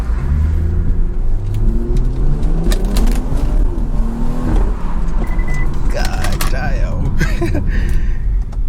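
BMW 340i with a B58 engine and stock exhaust accelerating from inside the car, a steady loud engine drone rising and falling in pitch through gear changes, with someone talking over it.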